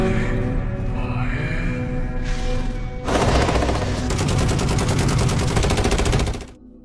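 Rapid machine-gun bursts and dense gunfire fill a night-time film battle scene in Black Knight (2023), an earlier volley followed by a louder, sustained fusillade that cuts off near the end.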